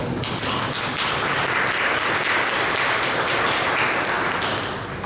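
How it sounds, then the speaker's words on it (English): Seminar audience applauding a journalist being introduced as a speaker; a steady, even wash of clapping from many hands continues for several seconds, fairly distant and without voices on top. "Some applause for her, please."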